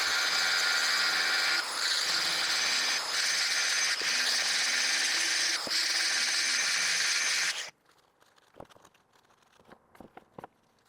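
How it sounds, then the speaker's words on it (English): Metal shelving being ground down with a power tool before welding, a loud, steady high-pitched whine lasting about seven seconds, then a sudden cutoff leaving faint scattered clicks. "So I'm gonna grind it down with this"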